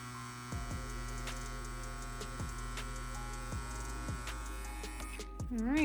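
A 5-watt rotary tattoo pen motor hums steadily and close with a bright, many-toned electric buzz, broken by short dips as the needle works a line, and a brief wavering tone near the end.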